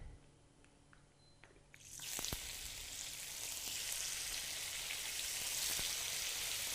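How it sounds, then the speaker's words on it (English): Tofu frying in a pan for vegan ramen: after a quiet moment, a loud, steady sizzle bursts in and continues evenly. "I'm going to fry my tofu first."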